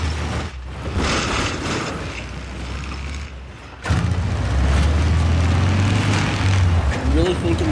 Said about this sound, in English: I get in this Jeep thinking I'll try to get over there a little faster